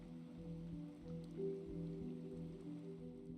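Steady rainfall on a highway in the video game Dungeons of Hinterberg, a continuous low soft wash with faint patter, calm and unbroken throughout, no talking.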